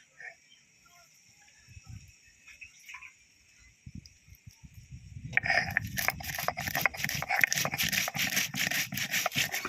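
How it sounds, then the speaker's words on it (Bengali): Cumin and black pepper are ground together into a paste on a stone, first with soft intermittent scrapes, then a steady rhythmic rubbing and grinding that grows louder, with a faint tonal hum in the background. "এবার জিরা আর গোলমরিচ একসাথে বেটে নেবা"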